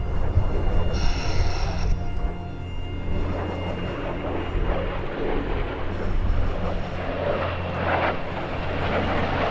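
A formation of a P-51 Mustang, an A-10 and an F-22 Raptor approaches at an airshow, a loud broad roar of aircraft engines building steadily over about nine seconds, with crowd and ambient noise around it.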